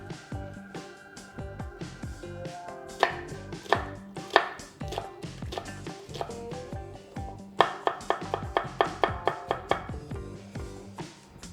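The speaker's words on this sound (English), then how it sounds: "just sort of cut through the onion this way" Knife chopping through an onion on a cutting board, a long run of crisp, close cuts, sometimes slow and spaced, then quick rapid bursts.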